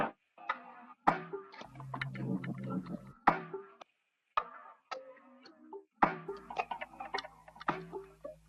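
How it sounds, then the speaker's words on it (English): Two layered percussion loops in a music sample, one of them chopped into stuttering fragments, play as crisp ticking hits and clustered knocks in an uneven, start-stop rhythm with short gaps, moderately quiet and without voices. "And I added these two percussion loops."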